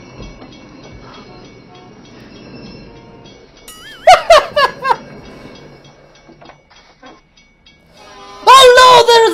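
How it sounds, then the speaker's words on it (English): A train horn from a Thomas & Friends episode sounds in two loud, tonal blasts, one midway and one at the end, after a stretch of quieter background with voices. "Oh no, there is a train!"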